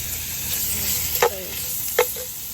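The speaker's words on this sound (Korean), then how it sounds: "밖에 이렇게 달달달 볶은 다음에 해야지 국물도 맛있고" Meat seasoned with garlic and butter sizzles in a pan at a beach campsite, a steady hiss broken by two short clanks of stirring, with no voices.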